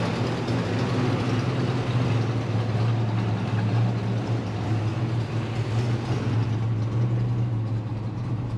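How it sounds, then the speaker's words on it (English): Chevrolet El Camino engine idling too high after repairs, a steady low rumbling drone that holds constant throughout, close and moderately loud, with no talk. "she's still idling way too high"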